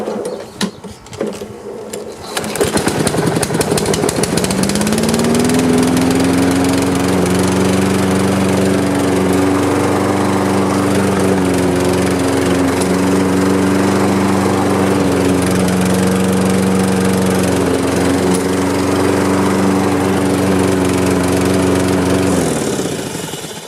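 Husqvarna self-propelled walk-behind lawn mower starting up and then running at a steady, loud drone with a slightly rough, uneven engine note, close by and alone for about twenty seconds.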